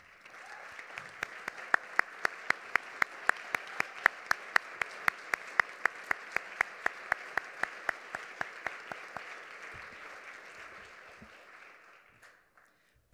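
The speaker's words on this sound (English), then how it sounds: "You all deserve a round of applause." An audience at the Fierce Founders Bootcamp finale applauds the women who took part. The clapping is steady and moderately loud, with some sharp individual claps standing out, and it fades away toward the end.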